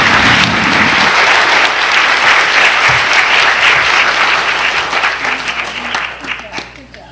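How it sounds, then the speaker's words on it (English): An audience at a school district Student of the Year ceremony gives a loud, sustained round of applause for an 8th grade winner. The clapping stays dense and steady, then thins and fades toward the end. "One more big round of applause for our 8th grade Student of the Year winner."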